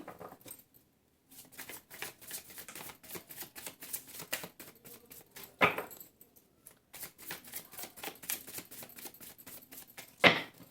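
Tarot cards being shuffled by hand, a dense run of quick papery riffles and flicks in two long bursts, each ending in a sharp louder snap of the deck, close and alone with no talk.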